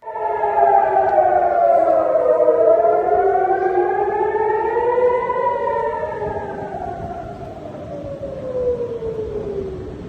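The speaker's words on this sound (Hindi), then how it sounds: "यहां पर सायरन बज रहा है, सन्नाटा पसरा हुआ है" An air raid siren wails at Ben Gurion Airport, a loud continuous rising and falling tone with layered harmonics sweeping slowly up and down over ten seconds, heard alone.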